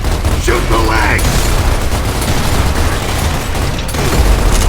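Heavy, dense gunfire and booming blasts from the video game Gears of War: Ultimate Edition fill the whole short stretch, loud and continuous, with a voice briefly heard over it.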